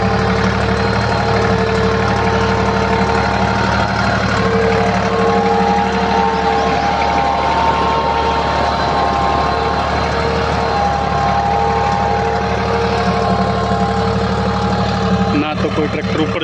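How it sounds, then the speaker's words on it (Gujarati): A Deutz-Fahr Agrolux 45 4WD tractor works a field pulling a 13-tyne cultivator, its diesel engine droning steadily and loudly throughout with a rough mechanical hum, and a brief clunk near the end. "પરફોર્મન્સ જોઈ શકો છો તમે આ કલ્ટિવેટર અને ટ્રેક્ટરનું."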